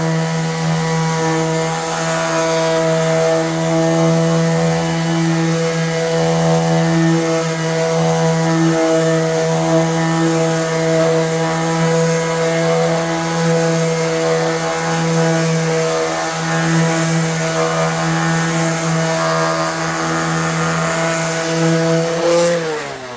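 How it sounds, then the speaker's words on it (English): A power sander finishing a wooden charcuterie board drones loudly and steadily for the whole stretch, a dense whirring hum that briefly shifts pitch at the end. "sorry that the sander's too loud"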